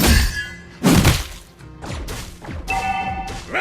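A turret being destroyed in a mobile hero battle game, heard as a heavy thunk followed by a crashing burst and further layered impact and shatter effects over a continuous game soundtrack.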